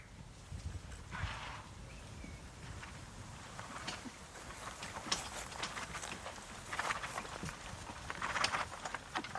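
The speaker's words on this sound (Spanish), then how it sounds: "es donde nacen los famosos caballos lipizzanos" Lipizzaner horses' hooves clip-clop across the ground at a stud farm, a steady, fairly soft rhythm of hoofbeats with scattered brighter strikes and a light ambient wash, no voices.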